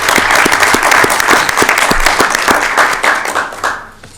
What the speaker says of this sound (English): Let's give our new members a round of applause.